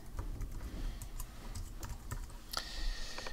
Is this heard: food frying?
no